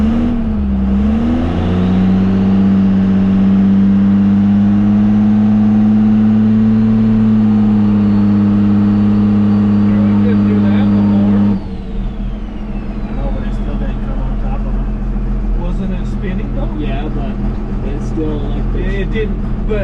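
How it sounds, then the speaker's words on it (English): A first-generation truck with a newly fitted torque converter holds a loud, steady engine drone against the brakes during a power brake test, then drops off sharply about halfway through to a lower idle. "You do a power brake test."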